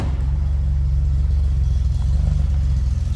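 A 1976 Datsun 280Z coupe's inline-six engine idles with a steady, loud, low rumble and even rhythmic throb, heard close up from the rear with no talking.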